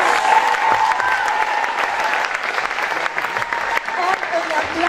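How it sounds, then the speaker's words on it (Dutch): Audience at the closing of a kids' art camp week in a theater clapping steadily and fairly close, a dense continuous patter of many hands with a few voices mixed in. "En een applaus voor mijn fantastische docententeam."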